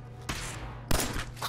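Gunfire in the video game Fallout 4, a single headshot kill: two sharp broadband bursts, the second louder, over a steady low game hum.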